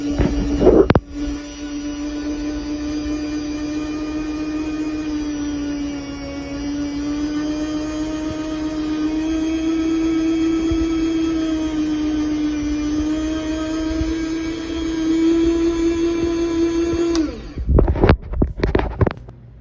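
A meat slicer cuts meat into strips for homemade jerky, its motor holding a steady droning hum for most of the stretch before stopping, followed by a few clattering knocks.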